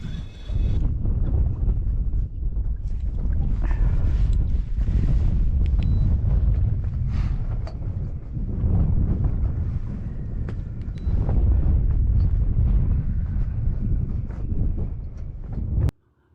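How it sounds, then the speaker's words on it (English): Strong wind buffets a GoPro fitted with a wind buff during spring striper fishing on the New Jersey coast, a loud continuous rumbling roar that fills nearly the whole span before cutting off abruptly at the end. "I have what's called a wind buff on my GoPro, and you could still hear this wind coming through."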